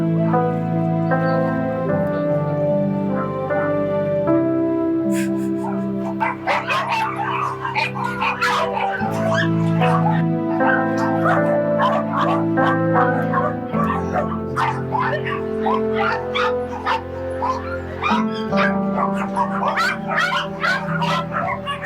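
Several dogs at a Korean dog meat farm bark and whimper in short yips over a steady background of music, with the bursts growing busier toward the end.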